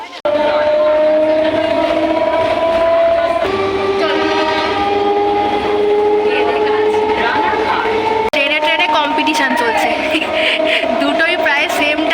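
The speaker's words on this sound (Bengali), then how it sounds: "ঠিক আছে ট্রেন" A train rolls past close by, a loud continuous rumble of rail cars carrying long, sustained horn tones that shift in pitch.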